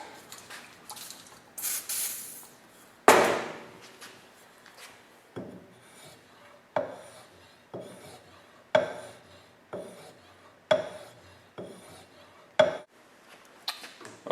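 Sharp scraping strokes repeat at a slow, steady pace, an axe blade rubbed against a fine 1-micron abrasive with brief quiet gaps between passes.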